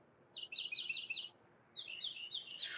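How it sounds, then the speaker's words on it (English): Small birds in a sunny garden give bright, high, rapid chirping phrases, two bursts separated by a short pause, fairly faint against a quiet background. "we also have birds"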